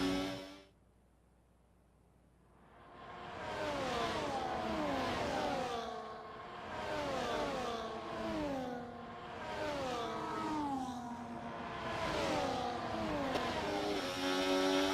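Simulated F1 car from F1 24 at full throttle around the Qatar Grand Prix circuit, a loud, close, high-pitched engine scream that climbs through the gears in repeated rising sweeps with brief dips at each upshift, continuous and without talking.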